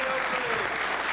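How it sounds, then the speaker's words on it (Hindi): Crowd applause for a wedding anniversary tribute at a New Jersey event, a steady dense wash of clapping with a faint voice beneath it, held evenly throughout. "एक बार ऐसी तालियां बजाइए और अपनी शुभकामनाओं की तालियां"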